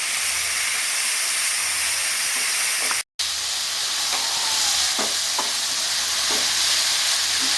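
Chickpea greens frying in a pan with turmeric and peas, giving a steady broad sizzle with soft scraping stir clicks, cut by a brief silent gap midway.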